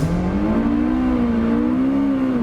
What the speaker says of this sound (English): Oh, too much wheel spin.